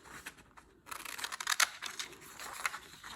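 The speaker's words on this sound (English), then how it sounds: "So then I have to cut out the beak with my scissors." Scissors cut out a small paper bird beak for a children's craft, giving close, quiet snipping and paper crinkling in a run of short bursts after a brief pause.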